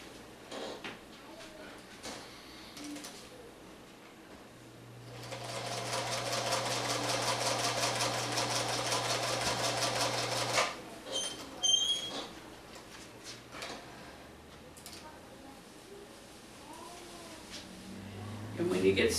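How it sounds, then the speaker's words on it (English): A sewing machine stitches seams on a pineapple quilt block, running in a steady mechanical burst of several seconds between quieter stretches of handling and soft background noise. "Stitch on the line between space 1 and space 4."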